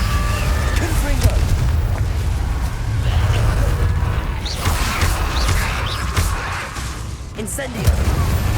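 A Confringo explosive spell goes off in Hogwarts Legacy, booming loudly amid a dense mix of magical bursts and crashes, with further impacts through the scene and a sharp burst near the end.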